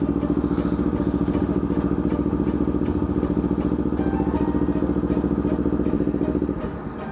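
A motorcycle engine runs loud and close at a checkpoint during a group ride, with a steady pulsing throb and light clatter that continues throughout and eases slightly at the very end. No one speaks.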